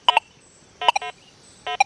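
Deus 2 metal detector on channel 3 giving short electronic tones in three brief bursts, each a pair or cluster of beeps, close and clear over a quiet background.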